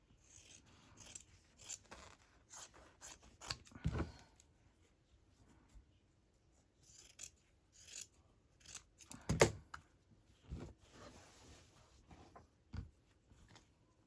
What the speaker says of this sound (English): I'm going to grab this piece, hold it on top and trim it